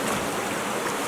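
Creek water flows in a steady, close rushing wash, heard alone without any talk.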